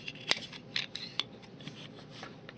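Scissors snip through mop strands for a Dollar Tree gnome, giving several quick, close, crisp cuts at an uneven pace against a quiet background.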